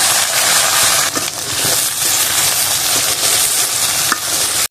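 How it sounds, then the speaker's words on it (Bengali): Green chillies frying in oil in a pan after whole garlic cloves, on a village clay stove; a loud, dense sizzle fills the clip with occasional stirring scrapes, close and continuous until it cuts off. "এই তো প্রথমে অনেকগুলো আস্ত রসুন ভেজে নিয়েছি, এখন ভাজতেছি কাঁচা মরিচ"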